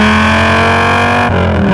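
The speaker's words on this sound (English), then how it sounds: "A full Bellinger exhaust system, including headers, high-flow catalytic converters, and a catback." Dodge Viper GTS ACR fitted with a full Bellinger exhaust, headers, high-flow catalytic converters and catback, drones in a loud, steady, close idle-to-cruise rumble with dense harmonics and a slight shift near the end.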